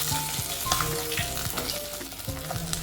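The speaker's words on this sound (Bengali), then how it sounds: "কুচি মাছ বার করে এগুলো এখন ভাজা চলছে" Small chopped fish fry in hot oil with a dense, continuous sizzle, joined by short tonal notes and soft knocks in the background.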